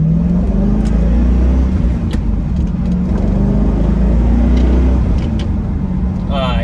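A stock C5 Corvette with a 6-speed manual pulls away under steady acceleration, its engine drone loud and close from inside the cabin with road and wind noise, and a voice talking over it.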